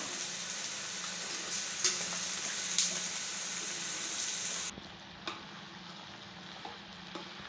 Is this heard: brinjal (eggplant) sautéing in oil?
yes